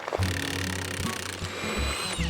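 A Milwaukee impact driver whirs and rattles up close as it spins rusted steel washers loose from wood, a continuous buzzing motor with uneven knocking pulses.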